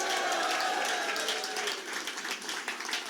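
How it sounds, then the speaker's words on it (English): Supporters at an election-night victory rally applaud, a dense wash of crowd clapping that stays steady, then thins slightly toward the end. "let's give a big round of applause for the best senior senator in the United States of America, Dick Blumenthal"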